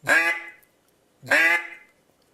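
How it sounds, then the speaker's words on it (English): Two separate single quacks blown on a duck call, each loud, nasal and raspy with a short fading tail, with a clean pause between them and no talking. "Just do a single quack spinning air that way."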